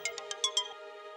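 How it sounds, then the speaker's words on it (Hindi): A phone ringing with a call from the chief minister, several short electronic ring pulses in quick succession, then a fading tone, clear and alone. "सर, सीएम साहब का फोन है।"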